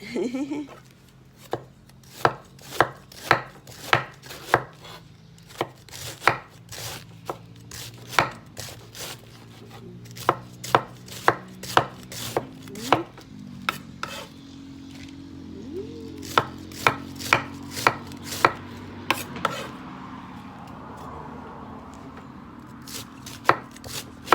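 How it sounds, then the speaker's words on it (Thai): A knife chopping vegetables on a board, sharp regular chops at a steady pace, close by, with a low background hum and some faint voices. "ไลฟ์ไปด้วยหั่นผักไปด้วยนะคะ"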